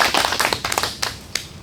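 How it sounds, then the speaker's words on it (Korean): A small audience at a farming training lecture breaks into brief scattered applause, a handful of sharp claps that thin out quickly, fairly close and alone. "박수 한번 주시죠"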